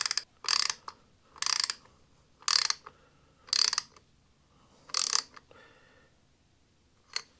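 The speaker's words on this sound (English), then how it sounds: "I'm going to tighten it down." Ratchet wrench tightening down a low profile 587 intake on a Harley-Davidson: five close bursts of rapid clicking with pauses between, then a final short click.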